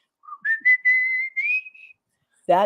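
A person whistles a short melodic phrase, clear and close, with a gliding rising line of a few sustained notes, then a brief pause before a louder sound cuts in at the end.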